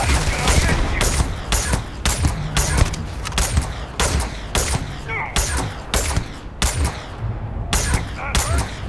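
Gunfire in the Starfield video game, repeated sharp shots in uneven bursts, loud and close, with brief pauses between volleys and no talk over them.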